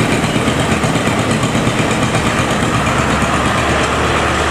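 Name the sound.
economy-class bus with Hino AK engine in traffic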